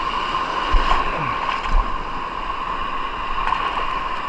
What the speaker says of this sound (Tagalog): Ang laking alon dito banda.